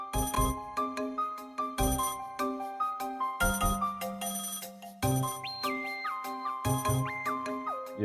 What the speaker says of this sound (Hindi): ये बार बार किसका फोन आ रहा है?